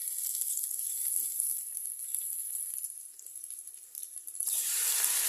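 Garlic and onion sautéing in cooking oil for chicken menudo: a steady, close bright sizzle that dips briefly when stirred, then surges back louder.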